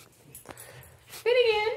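A big dog whines in a high, wavering whimper close by for about half a second at the end, after quieter moments with faint voices and shuffling.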